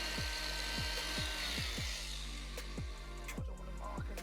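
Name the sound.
grinding off a bolt on car sill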